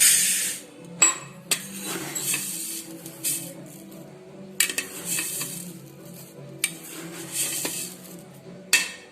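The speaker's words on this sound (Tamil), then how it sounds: "அதுக்காக நான் ஒரு குக்கர் எடுத்திருக்கேன். அதில் நம்ம பச்சரிசி போடுறேன்." Raw white rice goes into a pressure cooker for ven pongal. Several short rattling pours and metallic clinks come close up at roughly even intervals, with quiet pauses between them.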